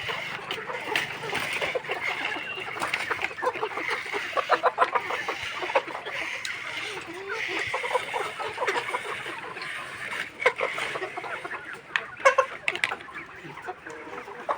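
A flock of chickens on a farm clucking and murmuring steadily while they eat feed, with scattered louder clucks and pecking, close and continuous.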